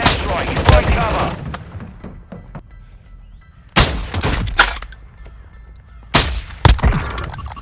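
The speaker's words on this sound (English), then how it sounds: "Enemy precision airstrike. Take cover." A precision airstrike in the mobile battle royale shooter Warzone Mobile lands as three separate bursts of sharp explosive impacts and thuds, each followed by quieter gaps with faint debris.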